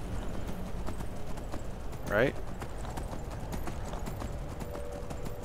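Horse hooves clip-clop steadily in the Skyrim video game, a faint, even rhythm of hoofbeats with a brief neigh in the middle and someone speaking briefly over it.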